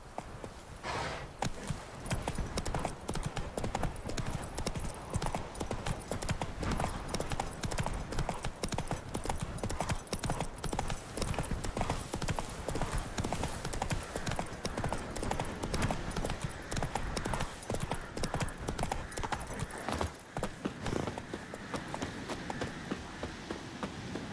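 A horse gallops steadily in The Witcher 3, with fast, loud clip-clop hoofbeats running continuously and close throughout, plus occasional snorts and no speech.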